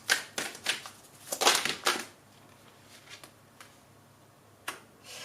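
Tarot cards are shuffled and a single card is drawn from the deck, heard as a quick run of soft, crisp paper flicks and slaps, then sparse light taps. Quiet and close, with no voice.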